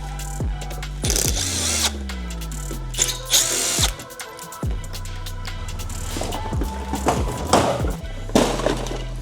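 A power tool removes the inner guard bolts from a VF car during a front bumper teardown, with short whirring bursts, a falling whine and metallic clatter close by.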